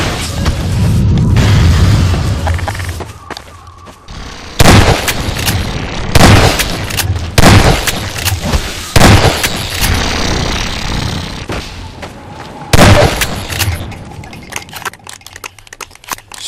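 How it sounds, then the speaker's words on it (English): Repeated shotgun blasts fired at antlions in the video game Half-Life 2, about six loud booming shots at irregular intervals over a rumbling, noisy game background. "Shotgun honestly seems to be the best weapon to use against the Antlions"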